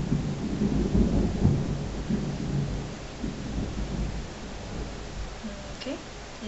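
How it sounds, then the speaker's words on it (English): Heavy rain pours steadily outside while deep thunder rumbles through it, loudest early on and then easing into a continuous wash of rainfall. "okay, it's raining pretty bad out there."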